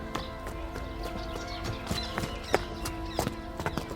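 Hooves of a fine riding horse carrying two riders clip-clop in an irregular walking rhythm, close and distinct, over a steady low background.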